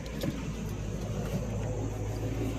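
An OBS Ford truck crawls along in low range with a steady, low engine rumble and a drone heard from inside the cab, without breaks.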